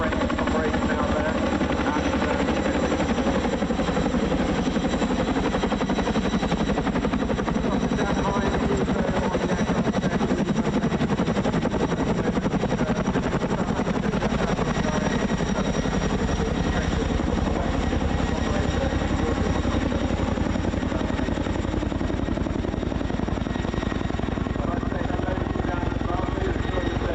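Helicopter at the RAF Cosford Air Show, a loud continuous rotor thrum and turbine whine that holds steady throughout, with a commentator talking over it.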